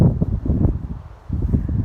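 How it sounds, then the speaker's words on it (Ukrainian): Strong stormy wind in a garden buffets the microphone in loud, low rumbling gusts, briefly easing before surging again, with no speech. "у нас дуже великий вітер і прям якась така, знаєте, буря"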